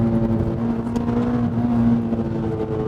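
A Toyota Celica VVTL-i 190 engine is held at high revs around its lift changeover, a loud, steady droning tone with strong harmonics and slight rises and falls, heard from inside the car without talking.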